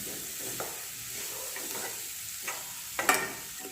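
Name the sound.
stirring salt and slit green chillies into fish head curry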